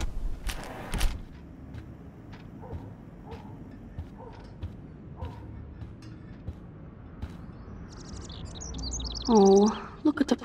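A bird in the Life Is Strange video game chirps and tweets in short bursts, with a brighter flurry of calls near the end, over quiet ambient game sound and some creaking.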